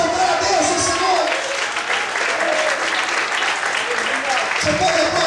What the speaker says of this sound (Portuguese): Todos podem aplaudir e exaltar a Deus nessa noite.